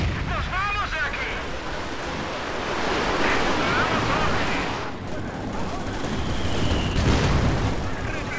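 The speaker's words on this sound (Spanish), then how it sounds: "Disparando todos los cohetes." A dense, roaring barrage of rocket artillery fire and explosions rumbles on without a break, loud and chaotic, in a 4v4 battle in Company of Heroes 2.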